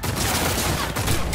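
Dense, continuous gunfire from a shooter video game, Cyberpunk 2077, a steady loud barrage of rapid shots filling the whole short moment with no pauses and no voices.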